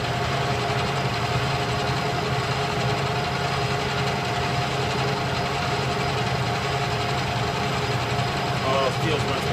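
Metal lathe turning a change gear at 715 RPM, a steady continuous motor hum with mechanical whine holding constant throughout, fairly loud and close.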